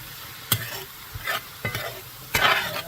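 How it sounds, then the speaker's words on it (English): Spoon stirring mushrooms, onions and beef in a cast iron skillet for beef stroganoff, a few distinct scraping strokes over a faint sizzle, close and alone. "I'm going to mix this all together"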